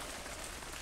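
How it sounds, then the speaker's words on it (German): Rain in the video game Die Gilde 3, a dense, even hiss of falling raindrops pattering on surfaces, steady and moderately loud for a brief moment with no voices. "Der Regenklang hat sich verändert."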